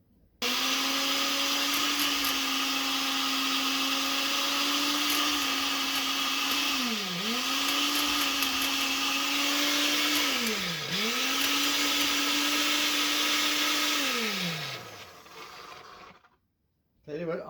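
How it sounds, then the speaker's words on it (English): A food processor blending tehina runs as a loud, steady motor whine for about fifteen seconds, dipping twice in pitch as the load shifts, then stops abruptly into near silence. "it's quite a process, but that's why it's called a food processor"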